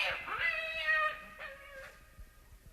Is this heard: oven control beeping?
no